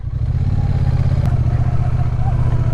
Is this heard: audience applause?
no